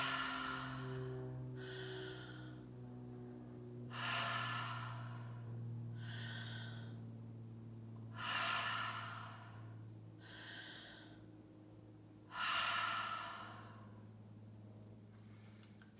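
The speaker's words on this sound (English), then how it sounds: "Deep inhale, free exhale." Conscious connected breathwork: deep, open-mouthed inhales followed by loose, free exhales, four slow breath cycles heard up close over a soft sustained musical drone.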